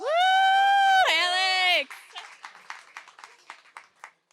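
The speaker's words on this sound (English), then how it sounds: "you guys want to clap it up for Alex?" A small audience claps for Alex at a talk on getting rental property back from a tenant. A loud, drawn-out vocal whoop comes first, then sparse, uneven claps that thin out toward the end.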